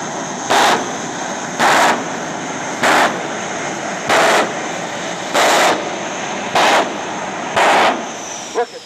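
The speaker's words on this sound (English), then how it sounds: "Look at the flames shooting out of that turbojet engine when he lights up the afterburner." A turbojet-powered 2001 Lincoln Navigator jet car at an airshow, its afterburner lighting in seven loud, sharp roaring bursts about a second long, evenly spaced over a steady engine whine.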